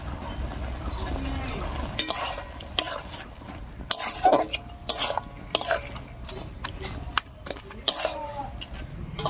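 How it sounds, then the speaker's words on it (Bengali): Taro leaves (kachu shak) stirred in a pan over a spice tempering, a spatula scraping with scattered clinks and clatters against a steady kitchen background. "ফোড়নের উপরে কচু শাকটা দিয়ে একটু নাড়িয়ে নিয়েছি।"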